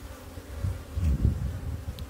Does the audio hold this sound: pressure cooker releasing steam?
no